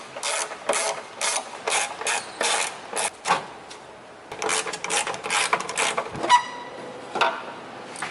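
A hand ratchet clicks in quick bursts as bolts come off a hitch on a BMW X5M. The rapid pawl ticking is close and repeats with short pauses.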